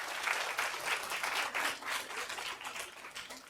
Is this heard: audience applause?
yes